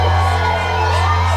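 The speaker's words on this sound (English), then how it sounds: "Everyone's cheering." Crowd cheering at a ceremony entrance in a film, a dense continuous roar of many voices with scattered whoops and shouts, steady and loud for the whole moment.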